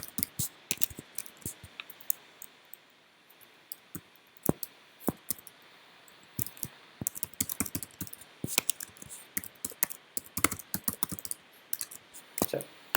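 Typing on a computer keyboard, close and crisp, in irregular bursts of quick clicking keystrokes separated by short pauses, with occasional mouse clicks.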